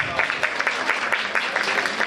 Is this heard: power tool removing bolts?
no